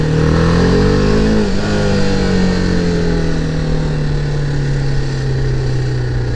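A BMW G310R single-cylinder motorcycle engine revs loud and close as the throttle opens, its pitch climbing and then easing into a steady, slightly falling drone on a ride, with no talk.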